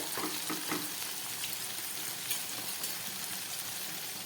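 Prawn and poppy seed bottle gourd leaf fritters fry under a lid in oil, a steady, dense crackling sizzle with scattered pops that carries on evenly throughout at a moderate level, no voices present.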